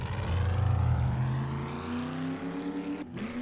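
A car engine in the video game 7 Days to Die, revving with a rising whine that climbs steadily in pitch, loud and close, then briefly cuts out before resuming.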